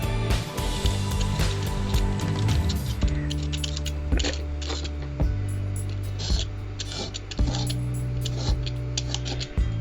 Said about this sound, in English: If you can hear a fan in the background